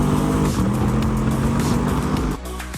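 A 2018 Ford Mustang Shelby GT500 revs hard in sport mode, a loud, sustained engine roar with steady harmonic tones that holds for over two seconds before dropping off abruptly near the end.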